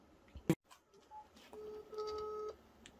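A telephone dialing a number, with a sharp knock followed by a short run of separate beeps and then a sustained two-tone signal, faint and close with no talk.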